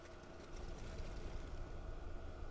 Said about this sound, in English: let's go ahead and start these engines.